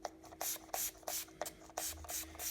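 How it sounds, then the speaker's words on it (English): Short repeated hissing bursts of a spray bottle misting water onto water-soluble glue, about six quick squirts in a steady rhythm, close and fairly quiet. "the way to do that is to spray some water on here"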